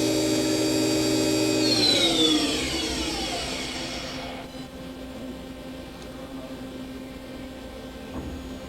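A used CNC machine's table slides along its X axis, a motor whine gliding downward in pitch over a few seconds and settling into a steady machine hum.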